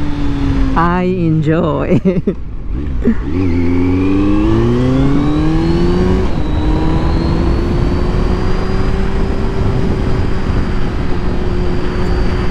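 A 2020 Kawasaki Z900 inline-four motorcycle revving and accelerating while being ridden, a loud close engine whine that climbs through the gears and then holds a steady high drone, with a few words spoken over it early on.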